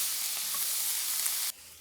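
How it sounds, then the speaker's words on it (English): Bacon and onion sizzle in a frying pan with a bright, steady hiss at close range, then the sound drops off abruptly near the end. "once you start to hear that bacon and onion sizzle, give it a quick stir"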